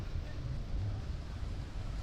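Wind rumbles and buffets against the microphone, a steady low roar that fills the whole moment.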